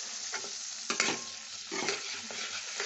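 Coriander, cumin and Kashmiri chili powder stir-fry in a pan for a hilsa and eggplant curry, a steady close sizzle with repeated scraping and clinking stir strokes scattered through it.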